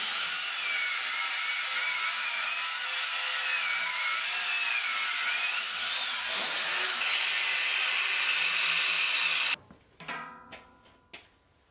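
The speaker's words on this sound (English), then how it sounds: "grind the welds flat on the side opposite to the piece that we just welded on" A power tool grinds welds flat on a welded DIY video light frame, a loud, steady, rasping whine for about nine seconds that stops abruptly and gives way to a few sharp clanks and knocks.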